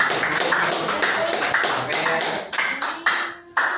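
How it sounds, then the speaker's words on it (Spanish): A church congregation clapping in uneven bursts, the applause rising and tapering in several waves, with some voices mixed in. "Sí, aplaudan al Señor Jesús."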